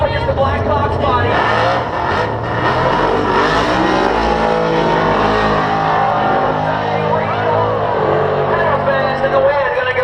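Drag racing cars, including a crusty Nova, roar loudly and steadily down a concrete track at a 2016 event, engines revving hard and nearby, with voices and crowd noise mixed beneath.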